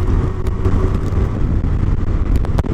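A 2017 Kawasaki Versys 1000 motorcycle on the move, a steady engine drone mixed with wind rush, a few brief sharp transients cutting through the continuous riding noise.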